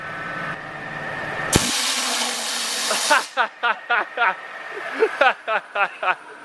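A 60,000 PSI waterjet blasting a spoon, a loud roaring hiss that cuts off abruptly, followed by a series of short rhythmic sputtering bursts as the stream pulses on and off.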